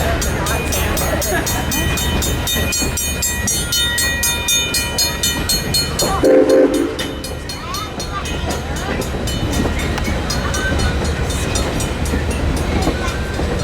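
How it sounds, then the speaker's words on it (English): A heritage train at the Tennessee Valley Railroad Museum rumbles along in reverse with a steady mechanical drone and rhythmic clatter, loud and close, with faint voices in the background. "Train's going backwards."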